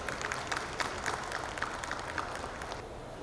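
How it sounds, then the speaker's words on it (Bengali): An audience at an indoor event for cable operators applauds, a dense steady patter of many hands clapping at moderate level without pause, with no speech over it. "জোরে করতালি।"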